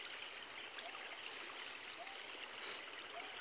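Floodwater flows steadily past in a continuous, faint rushing wash, with no voices heard.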